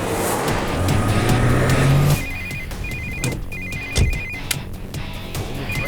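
A telephone rings in repeated short electronic bursts, clear and fairly close, right after a loud rumbling roar that cuts off abruptly.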